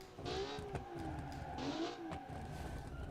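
A race car engine in the BeamNG driving game revs high and faint, its pitch rising and falling in short surges under a low background hum, with no voices.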